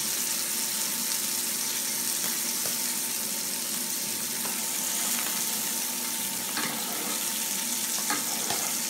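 Duck breast frying in a pan and basted with its own hot fat, a dense continuous sizzle and crackle with occasional splattering pops, close and steady throughout.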